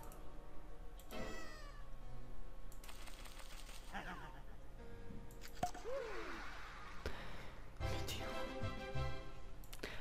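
Cat meowing inside a video game, several short meows and yowls scattered among game effects and background sounds, with a person talking over the play.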